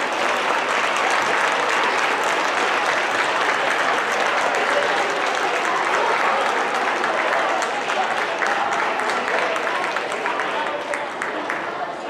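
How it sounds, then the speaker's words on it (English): Sustained, dense audience applause fills a sixth grade awards ceremony as students stand to be recognized, a loud steady wash of many hands clapping with a few voices mixed in, easing slightly near the end. "Let's give them a round of applause."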